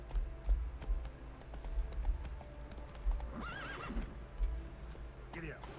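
A horse gallops in the video game Witcher 3, hooves pounding in a fast rhythmic clip-clop, with a couple of neighs and whinnies over the top and game sounds around it.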